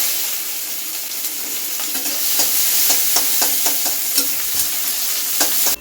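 Sliced onion with panch phoron and fennel seeds frying in oil in a pan, a continuous loud sizzle broken by repeated scraping strokes of a spatula stirring, close by and with no talking.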